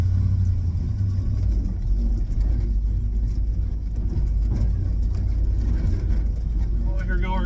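A 1972 Ford F750 "Super Pickup" truck rumbles steadily over bumpy ground, with a deep continuous engine and road drone heard from inside the cab while people talk over it.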